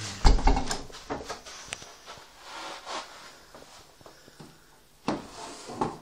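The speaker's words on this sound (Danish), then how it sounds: "Her er min skuffe." A drawer being opened in a house, giving a few close wooden knocks and sliding scrapes spread over six seconds, with quiet gaps between the bumps.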